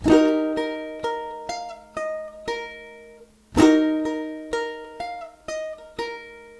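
Plucked ukulele notes ring out one after another in a slow, even fingerpicked pattern, each note sustaining and decaying, with a brighter strum-like pluck midway.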